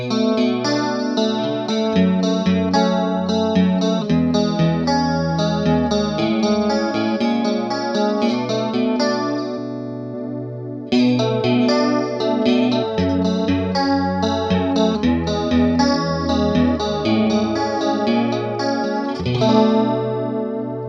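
Electric guitar played through a Boss CE-2w chorus pedal and then another Boss chorus, the same chord-and-note phrase repeated twice with a shimmering, wavering tone and no talking.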